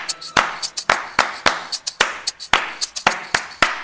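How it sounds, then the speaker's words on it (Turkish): Children clap their hands in an uneven rhythm, with sharp, loud claps in quick pairs and clusters close by and no voices over them. "herkes alkışlayacak"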